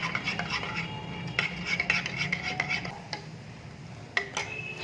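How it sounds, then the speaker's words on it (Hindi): A spoon stirs a yogurt and sugar mixture for dahi baray, with soft irregular scrapes and light clinks against a bowl, a few sharper taps standing out over a quiet background. "अब इसे मिक्स कर लें।"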